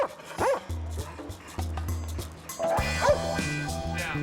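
German Shepherd police dogs give a few sharp barks and yips, one near the start and another around the three-second mark, over a steady low hum.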